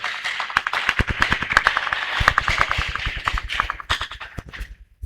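A church congregation applauds in a burst of fast, uneven claps that build up together and then thin out near the end, with no voices over them.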